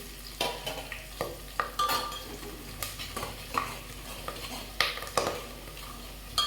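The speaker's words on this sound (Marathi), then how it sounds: "याला छानपैकी तळू द्यायचे आहे." Ambari masala and red chili powder fry in a pan with curry leaves, a soft sizzle punctuated by sharp clinks and scrapes of a spoon stirring against the metal, close and continuous.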